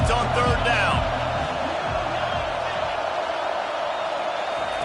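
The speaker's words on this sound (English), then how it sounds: "Decibels rising as the crowd gets behind this defense on third down" A college football stadium crowd roars for the defense on third down late in the first half of TCU versus Auburn, a dense, sustained wall of cheering under a commentator's voice.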